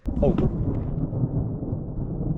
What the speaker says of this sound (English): The thunder is going.